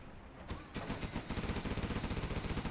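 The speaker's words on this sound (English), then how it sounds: "Look at the range on that Gatling cannon." Gatling cannon in a real-time strategy video game match, firing rapid bursts: a sharp opening shot, then a fast, evenly pulsing stream of rounds growing louder and denser over almost three seconds, no speech.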